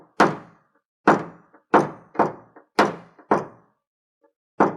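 A paintless dent repair tool knocks down a high spot on a car body panel: about nine sharp, close thunks in uneven bursts, some doubled, with brief silences between and no talk.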